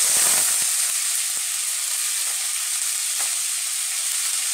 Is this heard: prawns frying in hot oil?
yes